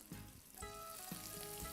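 Garlic and chili hit hot olive oil in a pan for spaghetti con vongole, giving a soft, steady sizzle with a couple of low knocks, faint and brief with no talk.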